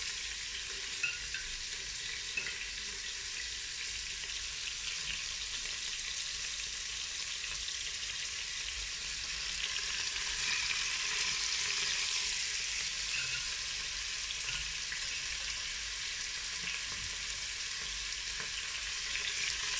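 Chunks of marinated beef for bourguignon browning in a Cookeo multicooker, giving a steady, moderately loud sizzle that swells slightly midway and continues alone without voices.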